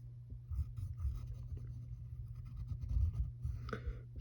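Pencil scratching on paper while sketching eye shapes for a cartoon drawing of Woody from Toy Story, a soft continuous scraping with short strokes, close and alone.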